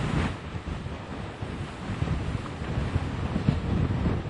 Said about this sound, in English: Wow, that was a heck of a gust.